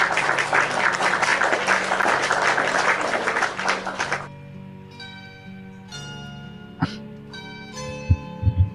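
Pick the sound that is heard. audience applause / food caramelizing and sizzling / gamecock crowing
audience applause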